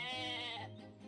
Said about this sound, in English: The goat's yelling at you for tattling on him.